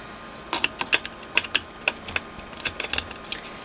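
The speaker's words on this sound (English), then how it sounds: "just take all the screws out that we can see" Screws being removed from a Dynatron HFC205 stereogram, with close, quiet metallic clicks and ratcheting ticks of a screwdriver at an uneven pace.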